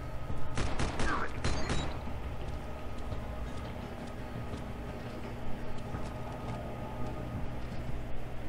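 Burst of video game gunfire near the start, sharp overlapping shots, then a steady mechanical rumble with faint talk underneath.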